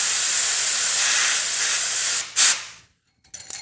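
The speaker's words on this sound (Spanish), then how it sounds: "vamos a aplicar un poquito de aire a presión" Compressed air blasts through the oil strainer of a Honda-style Kymco Agility 125 scooter engine, a loud steady hiss lasting about two seconds, then a short sharper burst, a brief silence and a fainter spurt of air.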